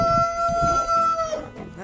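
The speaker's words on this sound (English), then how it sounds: "Look at the chickens following." Chickens cluck and warble nearby, a short burst of fowl calls with a sustained tonal note fading toward the end.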